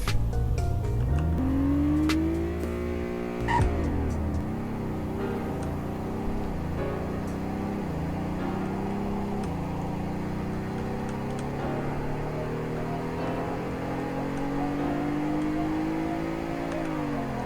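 Engine of a Roblox Greenville car accelerating from 0 to 100, a continuous rising drone stepping up through several gear shifts, loud and close throughout.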